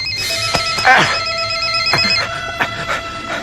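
A telephone rings in an indoor domestic scene, its bright electronic trill sounding in several repeated bursts across the clip, fairly close and clear, with a short voice in between.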